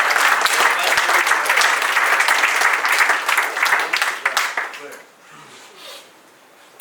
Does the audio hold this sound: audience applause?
yes